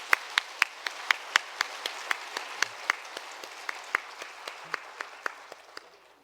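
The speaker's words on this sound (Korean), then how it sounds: "감사와 축복의 박수 한번 해주시기 바랍니다" A church congregation claps in a fairly quiet, even rhythm of distinct hand claps, about four per second, that gradually softens.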